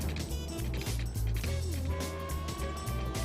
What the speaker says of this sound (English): Oh, it sounds like it's a fire truck.